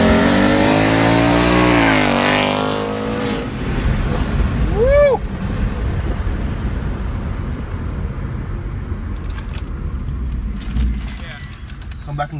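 A stock 2nd or 3rd generation Ford Mustang with the Coyote V8 revs loudly up and down, its throaty engine roar filling the opening seconds before settling into a lower rumble, with people talking over and around it.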